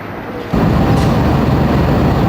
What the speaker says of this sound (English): Oh, some old diesel coming to connect up to a train.